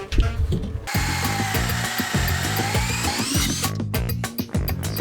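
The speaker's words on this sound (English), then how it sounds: "we're drilling through the floor into the underbody" A power drill whines steadily as it bores through a floor into the underbody, grinding loud and close for several seconds before cutting off.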